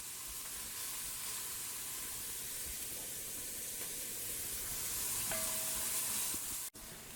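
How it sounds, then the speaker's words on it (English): Garlic and onion sizzle in a preheated pan, a steady, moderately faint frying hiss that runs unbroken, with a brief clink of a utensil near the end. "I'm going to add the garlic and our onion, and we just want to cook this until the onion becomes nice golden color"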